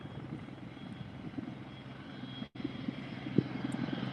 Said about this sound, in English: It sounds like a turbine.